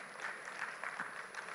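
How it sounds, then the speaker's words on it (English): A convention audience at an international buyers' week gives a brief round of applause, fairly faint and distant, steady clapping that continues without a break. "A round of applause for Hani."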